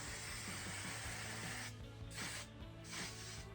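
Hairspray from an aerosol can sprayed onto curled fine hair in bursts, a steady hiss followed by two shorter sprays with brief gaps between them, heard close and fairly quiet.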